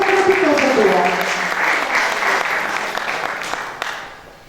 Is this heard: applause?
yes